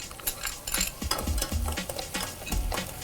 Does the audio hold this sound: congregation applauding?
no